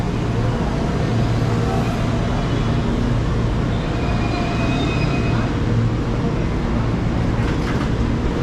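A commuter train in Jakarta gives a steady, dense rumble with low mechanical drone and a continuous wash of noise, close and fairly loud throughout without clear individual events.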